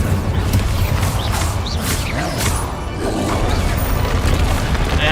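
An Incendio fire spell in the video game Hogwarts Legacy, several loud booming whooshes and crashing impacts in quick succession over a continuous rumbling bed of combat noise.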